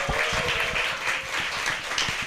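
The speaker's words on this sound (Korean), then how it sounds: "이 친구들 위해서 박수를 한번 쳐주세요." Audience applauding at a church summer Bible school gathering, a dense, steady wash of many hands clapping together, loud and continuous throughout.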